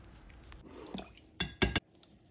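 A whisk or spoon knocks against a mixing bowl while génoise sponge cake batter with milk and oil is stirred by hand: a couple of short, sharp clinks close together near the end, with quiet faint scraping before.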